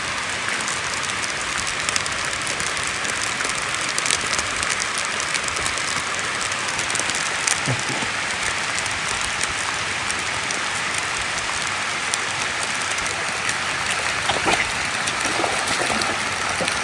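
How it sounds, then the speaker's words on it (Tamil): Steady rain falls outdoors during a fishing trip, a dense continuous hiss of drops on surfaces with no pauses, with occasional faint knocks and no talk. "இப்போ மழை பெய்யுதுல்ல"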